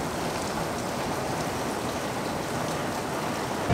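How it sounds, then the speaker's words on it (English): Heavy rain pours down outside at midday, a dense, steady hiss of drops hitting surfaces, constant and fairly close with no voices. "It's 1 p.m. and pouring rain outside"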